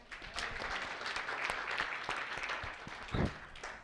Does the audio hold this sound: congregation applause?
yes